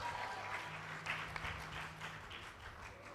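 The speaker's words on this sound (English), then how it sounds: "Please give yourself a round of applause." Audience applause at a nursing induction ceremony, a sustained, soft-to-moderate patter of many hands clapping across a hall, continuous for about three seconds.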